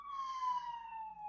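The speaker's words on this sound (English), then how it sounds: "we got some sirens going off." Emergency sirens wail outside, a single steady tone drifting slowly downward, faint and distant with nothing else over it.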